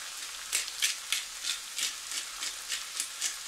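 A spiced bread mixture seasoned with paprika and pepper fries in a pan, giving a close, soft sizzle that swells in regular bursts, likely from stirring, with no voices.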